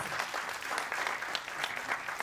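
An audience claps loudly at a cinematography masterclass in India, a dense, even burst of applause lasting a couple of seconds with no clear voices.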